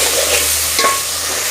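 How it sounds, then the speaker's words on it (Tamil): A pot of South Indian sambar is stirred on the stove, giving a soft scraping swish with a faint simmering sizzle underneath; one brief stroke stands out midway, no voices. "வச்சுங்க, நம்ம ஒரு வாட்டி இதை கிளறி விடுவோம்"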